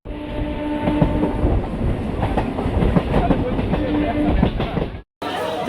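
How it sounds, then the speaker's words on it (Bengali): A crowded morning Namkhana local train on Sealdah's south section rumbles steadily with rhythmic wheel clatter heard from inside the carriage, and a brief dropout comes near the end. "শিয়ালদার সাউথ সেকশন থেকে নামখানা লোকাল ধরেছি 7:14।"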